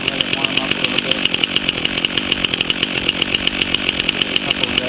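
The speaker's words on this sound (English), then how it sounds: "So you want to make sure that the chainsaw is getting warm before you do it." A Stihl MS 362 C-M chainsaw runs at steady high revs while warming up and cutting into a paper birch stump, a loud, close, continuous buzzing snarl with regular rhythmic pulses.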